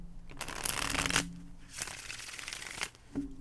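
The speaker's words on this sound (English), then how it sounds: "One more shuffle" Tarot cards being shuffled up close, a few quick riffling bursts separated by short pauses, fairly soft and without talk.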